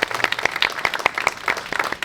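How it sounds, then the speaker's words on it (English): Applause for volunteer city plan commissioners at a comprehensive plan signing ceremony in Providence, a small group clapping in distinct, uneven bursts rather than a dense roar, moderately close. "let's give them a round of applause"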